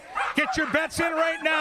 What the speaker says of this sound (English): You can hear the barking at the gate.